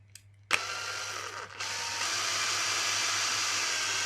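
A power drill whirs up after a couple of short clicks, settling into a steady high-pitched drilling hum while drilling a hole in an Insta360 Ace Pro battery charger.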